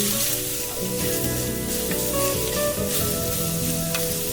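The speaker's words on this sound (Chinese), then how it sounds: "锅里倒进一些油，烧热以后倒入午餐肉丁，用半煎半炒的方法把它炒香" Diced luncheon meat sizzles in hot oil in a pan as it is half-fried, half-stirred; a loud, steady crackling hiss runs throughout with faint clinks.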